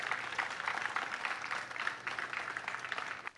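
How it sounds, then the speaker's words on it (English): An audience applauds to welcome the crew of the Spanish Navy training ship Juan Sebastian Elcano at a goodwill port visit in Cebu, a fairly faint, steady patter of clapping throughout. "Let us all give them a resounding round of applause."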